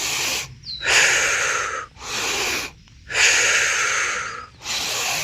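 Deep, breathy inhales and exhales alternate in a slow, even rhythm during a yoga breathing exercise, close and loud with short pauses between breaths.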